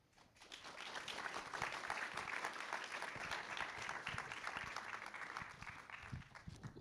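An audience applauds student panelists after a college discussion on media, the dense clapping swelling in after a moment and holding steady at full strength before tapering slightly.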